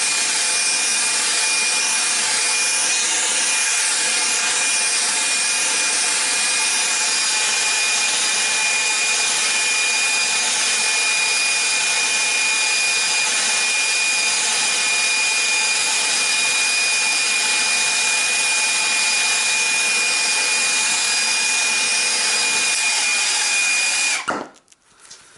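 A torch heats a CPU heat sink all the way around to free its copper core, giving a steady, loud roaring hiss with a fixed high whine that holds for nearly the whole stretch before cutting off abruptly.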